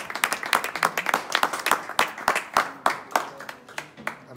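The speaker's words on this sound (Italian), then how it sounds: "E facciamo un applauso a Cantina Aperte Mustilli, no?" A small group claps at an open-cellar event at the Mustilli winery, giving loose, uneven handclaps in a quick irregular rhythm, close and clear, with a few voices mixed in.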